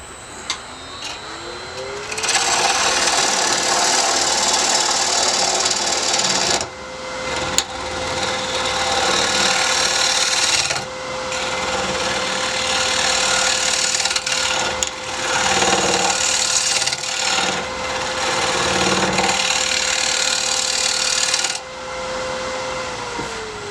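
A wood lathe spins as a tool cuts a beech bowl, a steady motor whine running under harsh, scraping cutting bursts that start and stop several times, close and loud, with no talking.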